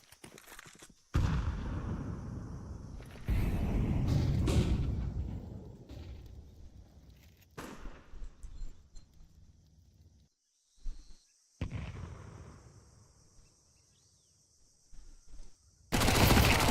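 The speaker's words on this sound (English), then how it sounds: "A full gunfight coming in from the side of CT right now" Counter-Strike gunfight with MAC-10 submachine guns, loud bursts of rapid automatic fire crackling in clusters with short pauses between exchanges, one final burst at the end.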